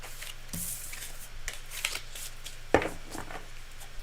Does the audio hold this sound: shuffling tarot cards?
yes